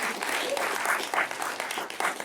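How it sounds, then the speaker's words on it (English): Audience applause at a live comedy podcast taping on a college campus, steady clapping from a crowd filling the whole stretch at an even, sustained level. "No, keep applauding for that, please."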